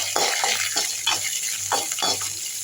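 Urad dal, curry leaves, dried chilli and ginger fry in hot oil, making a continuous sizzle with intermittent bursts as the pan is stirred.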